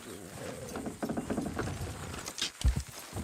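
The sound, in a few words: horses trotting in video game Red Dead Redemption 2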